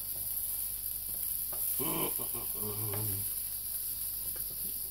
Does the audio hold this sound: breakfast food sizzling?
yes